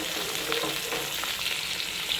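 Potatoes and drumstick seeds fry together in a pan, giving a continuous, even close sizzle with small crackles and faint stirring scrapes throughout, no talking.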